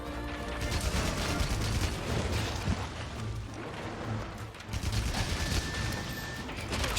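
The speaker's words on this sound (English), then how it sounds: "The animation of us unloading the Wyvern Snipe clip" Wyvern Snipe shot in Monster Hunter Rise, a continuous dense barrage of firing and clattering blasts over a rumbling low background, with no voices.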